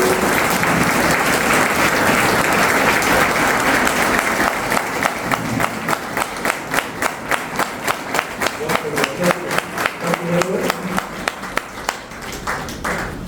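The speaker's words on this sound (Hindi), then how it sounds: "एक बार जोरदार तालियां अपने लिए, अपने सभी के लिए।" Business event audience giving loud applause: a dense roar of clapping for several seconds that thins into a rhythmic, unison clap beating steadily to the end, with faint voices underneath.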